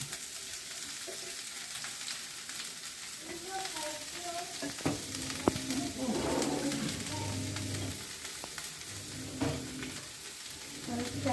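Chopped cabbage sizzling and being stirred in a frying pan for a cabbage poriyal, with steady crackle, scraping stir strokes and a few louder bursts; birds coo faintly in the background.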